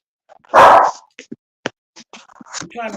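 A dog gives one loud bark, followed by scattered faint yips, scratches and a short whimper, with a man's speech in between.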